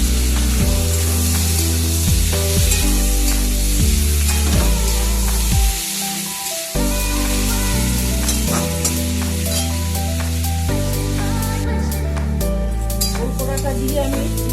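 Boiled elephant foot yam stalks are stirred with fried onions in a hot pan, giving steady loud sizzling and scraping under background music, with a short quiet break partway through before the frying and stirring pick up again.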